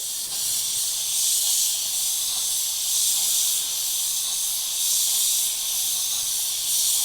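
An Iwata HP.TRN1 mini spray gun runs at about 35 psi, spraying paint in a continuous close airy hiss that swells and eases slightly as the stroke passes.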